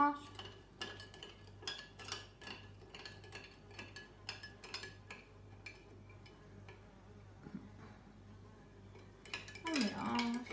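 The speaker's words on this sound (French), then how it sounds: "Alors, on mélange." A spoon stirs sugar into water in a glass, clinking repeatedly against the sides in a quick, steady rhythm, faint and close, with a brief louder scrape near the end.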